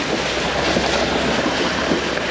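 Vehicle driving through water on the narrow Baviaanskloof Pass track, a loud, continuous broadband rush and splash under heavy engine and wind noise, steady throughout with no voices.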